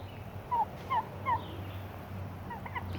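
Domestic turkeys on a small farm gobble in three quick calls close together, then a fainter call follows, over a low steady background hum.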